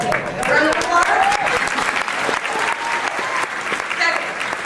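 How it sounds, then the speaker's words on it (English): Audience applause at an evening graduation ceremony, a dense sustained round of clapping from a large crowd that stays steady and loud for the whole stretch, with a few raised voices mixed in. "round of applause."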